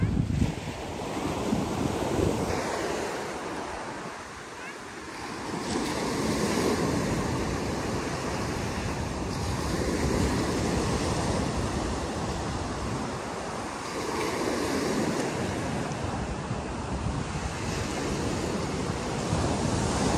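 Ocean waves roll onto Castelldefels beach near Barcelona, loud swelling surges of surf rising and falling every few seconds, mixed with heavy wind rumble on the microphone.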